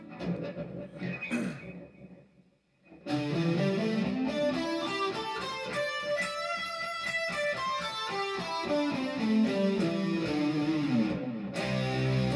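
An electric guitar with a slightly distorted tone runs up and back down the third box position of a scale pattern in quick successive notes, following a quieter opening.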